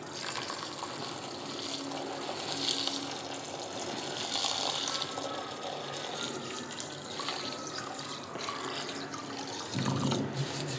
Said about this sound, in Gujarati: એમાં પાણી એડ કરવાનું છે.